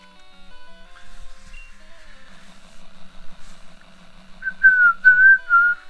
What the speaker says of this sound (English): Yeah, that's a freaking whistle.